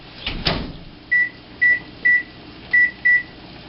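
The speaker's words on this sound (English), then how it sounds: "I will stick it in the microwave for 15 minutes on high." A microwave oven cooking chicken curry on high: a low hum with a door thump near the start, followed by five short, clear electronic beeps spaced about half a second apart.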